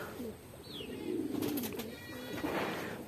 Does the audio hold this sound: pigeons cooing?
yes